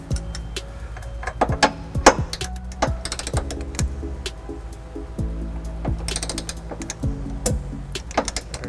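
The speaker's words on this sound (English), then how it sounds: "Putting on a 5-inch extension, that way I can get my torque wrench below the hitch here." A torque wrench on a 5-inch extension tightens trailer hitch bolts under a 2009 Ford Escape, giving sharp repeated ratcheting clicks in short bursts with metallic clanks between them, close and fairly loud.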